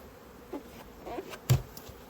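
Honey bees in an opened hive during a hive split hum as a faint, steady buzz, with a few louder close passes and soft handling knocks over it.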